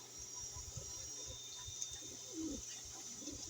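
Pet racing pigeons cooing softly at a loft, low repeated coos rising over a steady background hum, with faint bird chatter and no talking.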